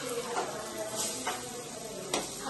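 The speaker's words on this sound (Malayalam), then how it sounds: "മല്ലിച്ചപ്പ് മുട്ട പിന്നെ ചില്ലി ഫ്ലെക്സ് കുരുമുളക് അതൊക്കെ ഇട്ടിട്ടാണ് നമ്മളിത് മുക്കി പൊരിക്കുന്നത്" Kuboos dipped in a mix of egg, coriander, chilli flakes and pepper frying in a pan, with a steady close sizzle and a few brief stirring scrapes, no talk.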